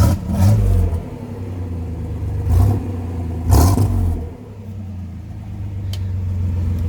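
Chevy G10 van with a custom exhaust, its engine idling in a low rumble and revved in three short bursts, each swelling and falling back to idle, fairly close.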